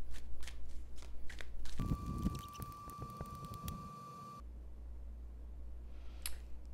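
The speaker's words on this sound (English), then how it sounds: "So let me just give this a quick little shuffle" Tarot cards are shuffled by hand close up in quick flurries of crisp clicks and riffles. A faint steady electronic tone and hum run underneath, and there is no speech.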